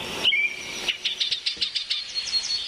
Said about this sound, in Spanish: es imposible no escuchar la sinfonía de las aves